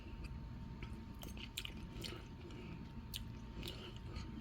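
Close, quiet chewing of Dollar Tree shrimp, with soft moist bites and occasional crisp clicks over a steady low background hum.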